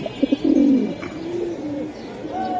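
Pigeons for sale at a bird market give several close, throaty coos in a short run that fades into a softer, steadier murmur, with faint chatter in the background.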